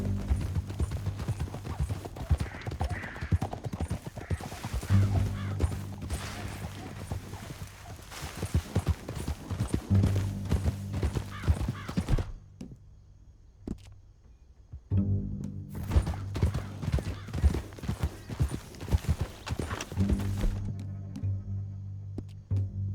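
Horse hooves in Red Dead Redemption 2 clip-clop rapidly and continuously in a galloping rhythm, loud and close, briefly dropping away before pounding back in.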